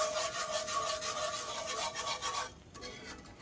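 A roux whisk scrapes and stirs through a roux in a pan, a steady close rasping rub that pulses rhythmically, then thins out near the end.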